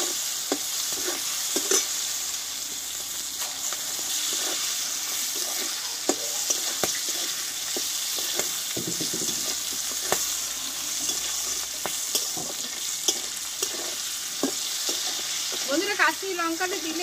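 A raw mango pickle mixture with sugar is stirred in a pan, steady scraping and sizzling with occasional sharp clicks of the spoon against metal, close and continuous, with a brief splash near the end.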